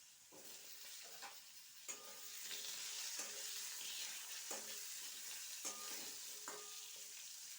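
Potato pieces sizzle and fry in a pan with black cumin seeds (kalo jeere), stirred with a series of scraping strokes over a steady, close frying hiss; no talking.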